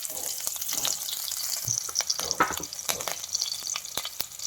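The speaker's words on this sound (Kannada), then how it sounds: "ಎಣ್ಣೆ ಹಾಕ್ಕೋಬೇಕು ಆದಮೇಲೆ ಸಾಸಿವೆ ಹಸಿಮೆಣಸಿನ್ಕಾಯಿ ಹಾಕಬೇಕು" Mustard seeds and green chillies frying in hot oil for Davanagere-style jeera uduka mudde, a steady close sizzle with scattered pops and crackles running throughout, no voices.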